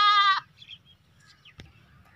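A young Makhi Cheeni goat kid, about five months old, lets out one short, loud, nasal bleat right at the start. Faint rustling and quieter background sounds follow.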